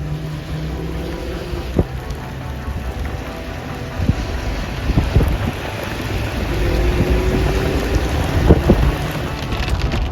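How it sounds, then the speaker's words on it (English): Steady rain pours down during a wildfire-season storm in the mountains, with low rumbles of thunder rolling beneath a continuous wash of drops and a few sharper splashes close by. "Look, we got the rain that we're hoping for."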